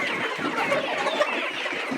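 Layer chickens on a farm during feeding time, with continuous overlapping clucks and soft chatter from a flock, steady and fairly close, no voices.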